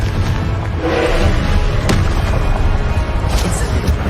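A Confringo fire spell blasting in Hogwarts Legacy, a dense rumbling boom with sharp cracking bursts that stays loud and close throughout, over steady battle noise.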